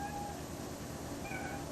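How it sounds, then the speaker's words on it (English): A newly adopted pet kitten meows in a few short, close calls, with steady low room noise underneath. "There's your new kitty, Jeffrey."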